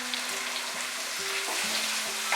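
Chopped tomatoes hit a pan of pav bhaji base over medium heat, giving a steady close sizzle and frying hiss with light stirring scrapes throughout, no voices.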